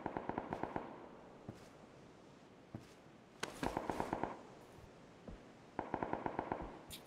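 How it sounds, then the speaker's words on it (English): Bursts of rapid automatic gunfire crackle at a distance in PUBG, first-person mode: three volleys of sharp shots in quick rhythm, separated by scattered single cracks and a steady background hiss, with no talking. "I can hear the shots"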